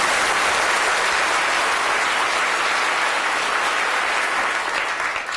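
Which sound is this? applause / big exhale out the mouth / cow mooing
applause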